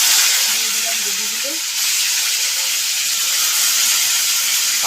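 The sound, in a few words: cauliflower frying in a pan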